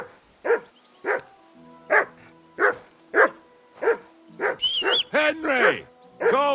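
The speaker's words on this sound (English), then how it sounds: "Call off that damn dog." A dog in the medieval role-playing game Kingdom Come: Deliverance II barks about eight times in a steady rhythm, loud and close, while a voice speaks over the later barks.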